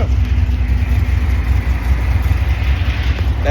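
Cammed Dodge Scat Pack engine running steadily with a deep, loud low-end rumble and lumpy idle throughout, close by with no talk.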